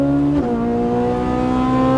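A Ferrari 458 Italia on a race track pulls hard under throttle, its loud engine note climbing steadily after a quick gear change, close and continuous.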